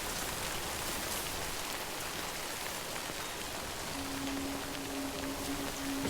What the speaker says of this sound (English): Well, looks like we got some more rain to go.